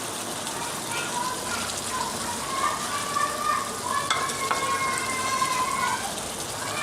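Chopped green chillies frying in a pan of white chicken korma give a steady, close, moderately loud sizzle with soft stirring scrapes throughout, and no talking.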